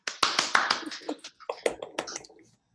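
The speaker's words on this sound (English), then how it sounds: "let's give ourselves a little applause" A small group on a call claps briefly. A few scattered, close hand claps fade out within a couple of seconds.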